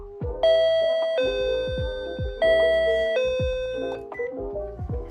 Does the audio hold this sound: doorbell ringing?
yes